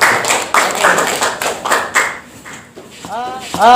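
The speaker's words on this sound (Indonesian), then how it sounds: "Berikan aplaus untuk Syariatul ya" A classroom of students applauding a classmate, a few seconds of loud, close clapping in uneven bursts, fading as a voice begins speaking.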